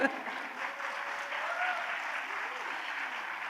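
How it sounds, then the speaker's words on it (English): Audience applause rings out at a childhood and play summit after a lullaby performance, a steady clapping crowd that starts strong and holds evenly throughout without voices. "Please, a huge round of applause for her."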